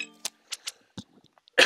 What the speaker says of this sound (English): Sorry for the constant coughing.